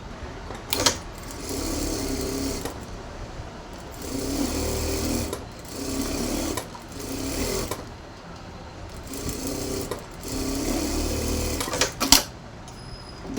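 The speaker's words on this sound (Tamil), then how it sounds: "கொடுத்துட்டு நான் கீழே ஒரு தையல் போட்டுக்கிறேன்" A sewing machine stitching a blouse neckline, running in several steady whirring bursts of a few seconds each, separated by short pauses and clicks, loud and close.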